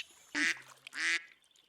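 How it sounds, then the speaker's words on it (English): A cartoon duck quacks twice in My Little Pony: Friendship Is Magic, two bright nasal honks about half a second apart, loud and alone against a quiet background. "That is like the exact same duck sound the iPhone uses."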